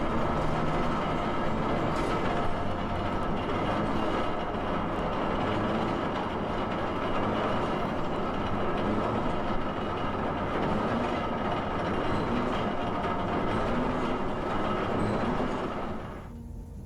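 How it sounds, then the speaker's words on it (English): A Scherzer rolling lift bridge being cranked back upright by its motor, a loud continuous mechanical rumble and rattling clatter that holds steady for the whole stretch before easing off at the end. "Scherzer rolling lift bridge is pretty noisy when the motor is cranking it back to the upright"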